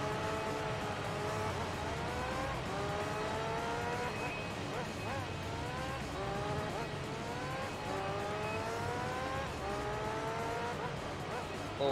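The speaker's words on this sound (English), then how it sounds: "Man just skids it round, drifts it, catches it" Race car tyres squealing through repeated drifts in Gran Turismo 3, long rising screeches layered over a constant engine drone, several skids in sequence from a steady in-game perspective.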